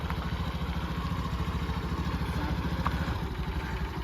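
The engine of an agricultural vehicle running in reverse chugs with a steady, close, rapid putter and a faint clatter, holding an even rhythm throughout with no talk.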